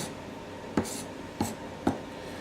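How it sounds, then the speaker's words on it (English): Three sharp knife chops land on a board at uneven intervals as leftovers are chopped up, against a quiet background hiss. "I'm just chopping it up."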